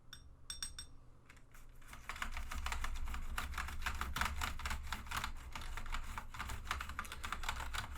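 Rapid clicking and clattering of keyboard keys being pressed and rubbed during cleaning, close up and continuous after a few sharp taps at the start.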